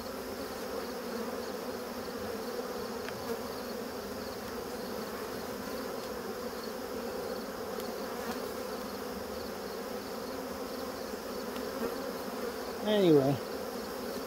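A dense, steady drone of honeybees around an open hive continues throughout, close and even, with a brief spoken word near the end.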